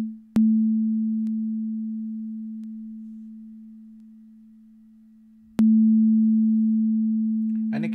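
Synthesized sine wave drone from the AUGenX app on an iPad: a steady, pure low tone triggered twice, each start marked by a sharp click, then slowly fading away.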